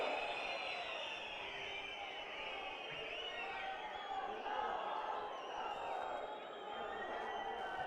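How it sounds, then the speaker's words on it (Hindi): A large crowd at a Congress party rally in Himachal cheers and claps in a sustained, rolling roar, heard from some distance for the full stretch, with no voice speaking over it. "तो प्रियंका जी आप जोरदार ताली बजाइए।"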